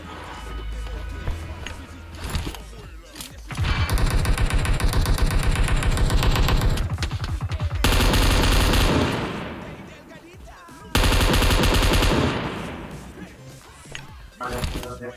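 Dense bursts of automatic gunfire from a PUBG Mobile firefight on a bridge, loud and close, coming in long rapid volleys with short pauses between them and a quieter stretch before the shooting starts.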